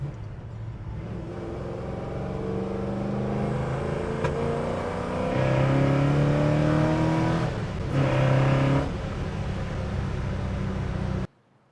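A 1970 Chevrolet Chevelle SS accelerates hard, its V8 roaring up through the revs with a gear change partway through, the note climbing again before the engine cuts off abruptly. The sound is close and loud, with no talking.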